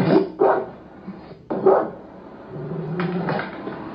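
Hostile dog barking, heard in a reaction to shocking internet videos: several loud, close barks and yelps in an uneven sequence over a rumbling background, ending in a longer whining call.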